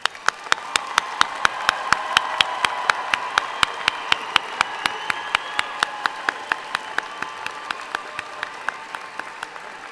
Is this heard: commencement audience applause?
yes